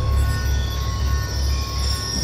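A train rumbles past in Call of Duty: Black Ops 2, a steady loud roar of wagons and wheels with a faint high squeal, with no talking over it.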